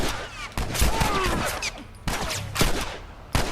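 Gunshots in The Last of Us Remastered, loud close bursts of several rapid shots separated by brief pauses, with a final sharp shot at the end.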